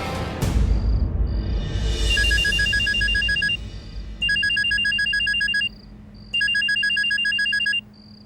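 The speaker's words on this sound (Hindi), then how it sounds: "वो पतिदेव का फोन आ रहा है" A telephone rings with an electronic ringtone, repeating bursts of bright beeping tones in a steady on-off pattern, loud and close with no talking over it.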